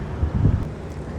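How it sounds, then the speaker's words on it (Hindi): Wind blows outdoors after rain, a loud low rumbling buffet on the microphone with gusty swells and no voices. "लेकिन हवा चल रही है।"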